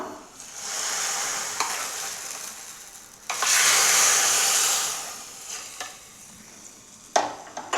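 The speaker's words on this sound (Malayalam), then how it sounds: "ഇനി നമ്മൾക്ക് വറവ് കറിയിലേക്ക് ഇട്ട് കൊടുക്കാം" Hot coconut oil with fried onion tempering poured into a prawn and drumstick ozhichukari curry: a steady frying hiss swells into a loud, close sizzling burst for a couple of seconds, fades back, then a sharp clatter near the end.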